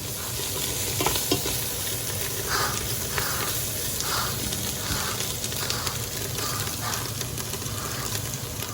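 Beef broth goes into a hot pan to deglaze it for cheesesteak soup, bringing a continuous loud sizzle and bubbling hiss with occasional soft scraping strokes.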